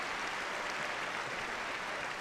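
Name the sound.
audience applause at Crufts dog award presentation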